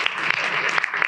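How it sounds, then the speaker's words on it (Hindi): Brief burst of audience clapping at a community gathering at a Buddhist vihara in Nagpur, a short dense patter of many hands with a few sharper individual claps standing out. "करुणा ताई के लिए जोरदार तालियां"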